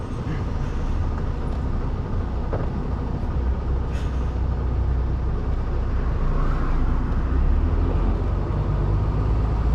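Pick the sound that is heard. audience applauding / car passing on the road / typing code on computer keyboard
car passing on the road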